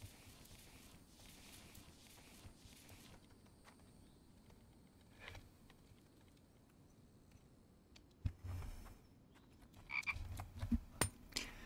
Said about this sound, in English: I hear you, frog.